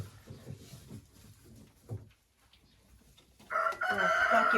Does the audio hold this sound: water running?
no